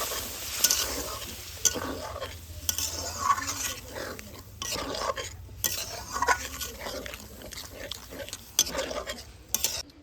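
Spoon stirring vegetables, spices and boiled lentils together in a pot for veg dal, with repeated scraping and clinking against the metal and a light sizzle underneath, close and steady throughout.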